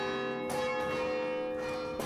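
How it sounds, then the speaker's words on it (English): Church bells ring at St Carthage's, two strong bell strikes about a second and a half apart, each with a bright clang and long, resonant humming tones that sustain between them. "ringing the bells at St Carthage's"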